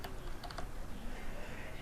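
Typing on a computer keyboard while entering text into a table in Microsoft Word, a quick run of close, crisp key clicks that thin out into a steady low background hum.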